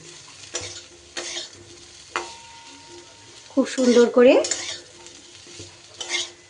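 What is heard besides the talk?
potatoes being stirred and fried for aloo chatpata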